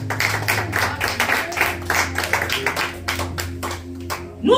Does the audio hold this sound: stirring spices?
no